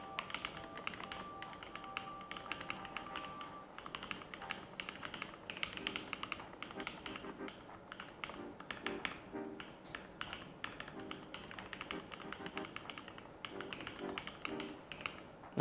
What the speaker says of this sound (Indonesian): Nih kalau udah ngetik 10 jari itu kurang lebih ngetiknya jadi kayak gini.